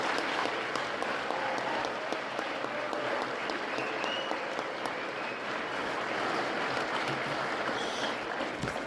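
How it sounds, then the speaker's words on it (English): Banquet audience applauding students, advisors and guests at a student design competition dinner, a sustained even wash of many hands clapping, fairly distant and consistent throughout, with no speech over it. "let's give all the students, advisors, and guests a round of applause"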